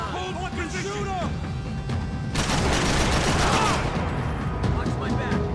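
Dense bursts of automatic gunfire and crashing impacts in the video game Max Payne 3, starting mid-clip and rattling loudly for over a second, with shouting voices and game speech mixed in around the shots.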